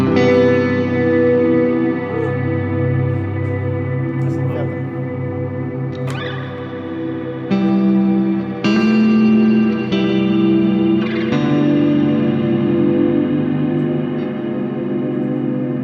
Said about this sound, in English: this is always going to be to me like the best sounding reverb pedal ever